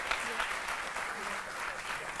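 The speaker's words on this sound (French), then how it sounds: "On va l'applaudir très fort pour saluer le travail qu'elle fait." Studio audience applause on a French-language midday TV show, a dense steady burst of clapping heard close and fairly loud throughout.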